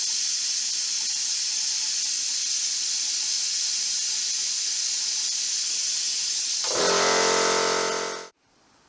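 An air-powered vacuum bleeder gun hisses loudly and steadily while bleeding clutch fluid from the bleeder nipple of a 2006-2011 Toyota Corolla, powered by a small air compressor. Near the end the tone shifts to a harsher, pulsing rush before cutting off abruptly.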